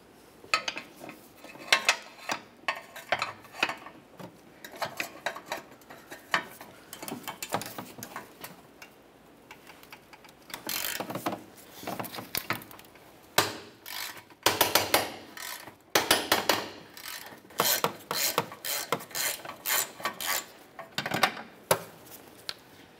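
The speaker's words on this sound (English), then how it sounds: "continue on to removing our 18 millimeter headed bolt" A socket wrench with swivel and long extension removes an 18 mm bolt on the transfer case of a 2004–2010 BMW X3, giving rapid ratcheting clicks in repeated bursts between pauses, close and fairly crisp.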